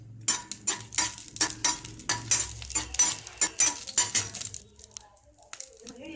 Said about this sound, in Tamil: ஊற்றி முதல்ல இந்த மிளகாய் வதலை வறுத்துக்கலாம்.